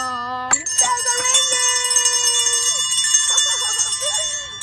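Bright bell tones ring out in a quick sequence, sustained and layered over each other, with a melodic line shifting underneath; close and fairly loud.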